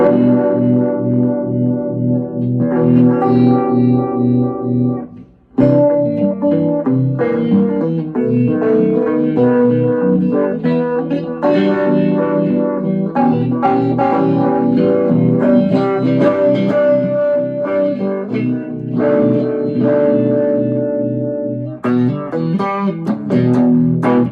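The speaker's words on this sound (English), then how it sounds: "I've got a sort of a univibe sound on this pedal" An electric guitar through a univibe effect pedal into a VHT Special 6 hand-wired 6V6 tube amp plays chords and melodic lines with a warbling, pulsing modulation, loud and continuous, with one brief pause early on.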